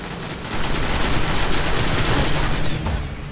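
Rapid automatic gunfire in the video game Destiny, player-versus-player Control mode, a dense, loud burst of shots filling the moment with little pause.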